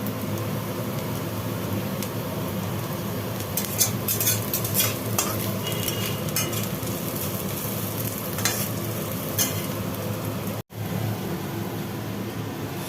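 Onions frying in a pan for lentil dal, a steady sizzle with scattered scraping and clinking of a spatula, close and continuous, a brief dropout near the end.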